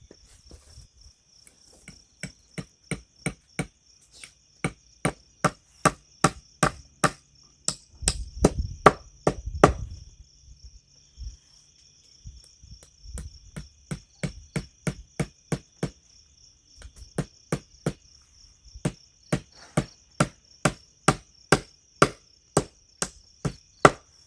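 Sharp hammer strikes drive fence posts in a steady, repeated rhythm, sometimes in quick pairs, against a constant high chirp of crickets.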